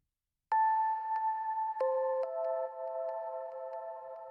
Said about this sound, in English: The only thing that's introduced here in the first drop is this E-piano melody.